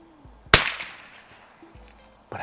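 A Savage 900TR .22lr target rifle fires once outdoors at a 50-yard range, a sharp loud crack early on that decays quickly, followed by quiet room tone and a faint rustle near the end.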